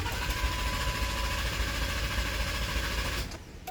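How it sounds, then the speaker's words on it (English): A truck engine cranks without catching, a steady mechanical churn that runs loud and continuous for several seconds before it cuts off near the end. "just want to double check that it is still cranking and no starting"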